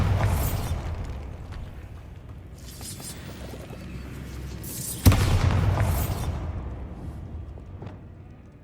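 The Bombarda explosion spell goes off in the video game Hogwarts Legacy, producing two loud booming blasts several seconds apart, each followed by a rumbling tail, amid game ambience.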